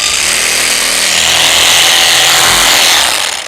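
A profile sander run through a hole drilled in a foam sanding block buzzes loudly and steadily for several seconds, a dense grinding whir with no talk over it.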